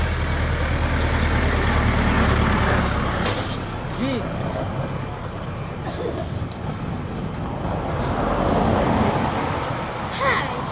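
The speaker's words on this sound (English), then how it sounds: "there come the big boys and the big tractor" A big tractor rolls past on a roadway in the Philippines, a loud steady engine rumble with traffic noise, swelling as it nears; people talk and call out over it.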